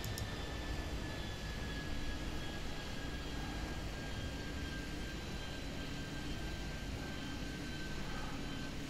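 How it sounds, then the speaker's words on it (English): A jet airliner in the Airport Madness 3D game rolls down a runway at JFK for takeoff, giving a steady, even roar with a thin high whine, constant in level throughout and with no voices. "So as he starts to roll, I'm going to line up the next one. There he goes."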